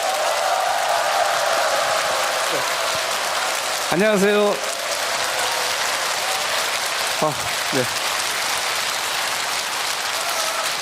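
A large lecture audience gives sustained applause to welcome a psychiatrist, a steady rain-like wash of clapping that runs through the whole stretch while a man briefly greets the crowd over it.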